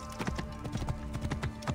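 Rapid, rhythmic hoof clip-clops of a horse trotting in Assassin's Creed Origins, close and steady throughout the short clip.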